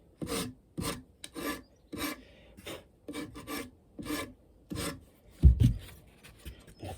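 Repeated rasping strokes of sanding on a wooden guitar body during a build, about a dozen back-and-forth scrapes in an uneven rhythm, fairly close.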